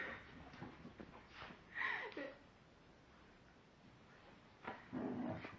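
A dog growls and barks in short bursts, fairly faint and alone, with a louder snarl in the middle and another burst near the end.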